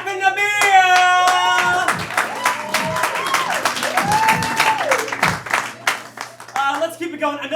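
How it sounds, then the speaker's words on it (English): Audience applause and cheering at a student improv comedy show, a loud burst of clapping with whoops that fades steadily while a host talks over it. "Round of applause."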